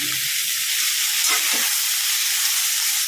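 Moringa leaves sautéing with salt in a pan, a loud, dense, continuous sizzle that stays steady throughout with a few soft stirring scrapes mixed in.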